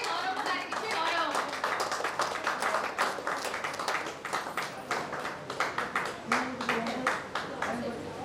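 An audience at a school reunion gathering claps in a steady burst of rhythmic applause, close and lively, with voices talking over it.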